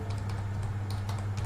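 Keys clack on a computer keyboard in a quick short burst of light taps over a low steady hum, close and fairly quiet, with no talking.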